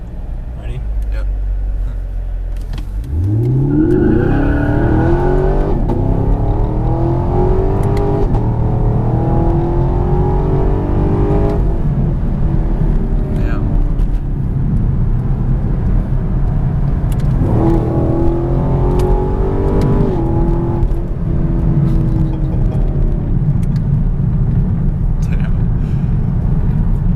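A Chevrolet Camaro SS in track mode launches hard from a low idle, its V8 roaring up through rising revs with audible gear changes, then pulls hard again later, loud from inside the cabin with occasional voices.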